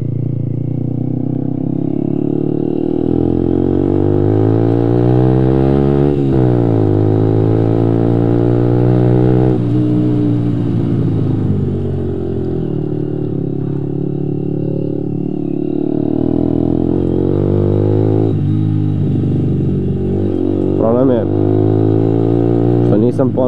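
Kymco Quannon 125 scooter engine on the move, a continuous close engine drone rising and falling in pitch as it speeds up and slows, with wind over the microphone.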